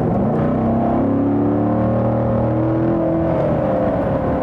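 A C7 Corvette Stingray, a 460-horsepower V8, accelerates hard with a loud, steady engine roar whose pitch climbs smoothly through the revs, heard from inside with no talking.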